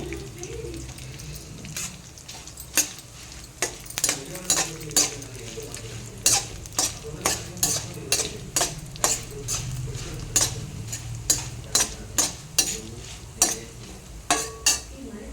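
Tamarind is stirred into a frying pan while making kalamaku pachadi. A spoon scrapes and clinks against the pan in a quick, fairly regular run of sharp taps over a soft sizzle.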